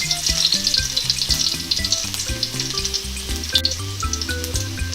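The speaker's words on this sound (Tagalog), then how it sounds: "Ngayon po ay maglalagay na po tayo ng cooking oil sa ating kawali. Igigisa na natin yung ating bawang." Garlic sautéing in cooking oil in a pan for squid adobo, a loud steady sizzle with crackling spatter, heard alone while background music plays throughout.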